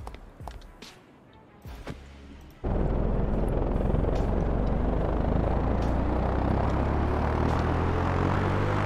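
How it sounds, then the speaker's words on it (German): An airplane lands in Minecraft, a sudden loud, steady roar that kicks in after a few quieter seconds of game sounds and continues to the end. "Das Schwerste, was ein Flugzeug zu bieten hat, das Landen."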